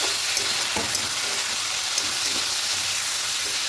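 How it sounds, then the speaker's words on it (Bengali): Curry with shrimp and taro stolons sautéing hard in a pan, a dense continuous sizzle with occasional soft scraping stirs, close and steady, no voices. "খুব ভালো করে কষিয়ে নিচ্ছি"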